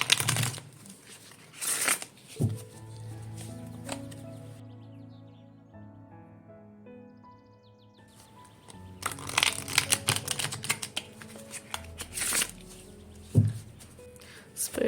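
Tarot cards being shuffled for a pick-a-card reading, with crisp riffling and papery crinkling bursts near the start and again in the second half, separated by a quieter stretch with soft tonal background music.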